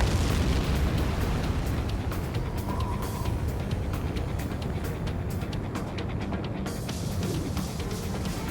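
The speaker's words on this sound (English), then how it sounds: "Firing the bunker buster." A bunker buster bomb detonates in Ace Combat 7, a loud, sustained roar of blast and rumble that fills the whole stretch with dense, unbroken noise and no clear pauses.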